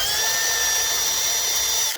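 A power drill whines at a steady high pitch, boring a hole for a bolt through part of a homemade ice fishing spud, then winds down at the end.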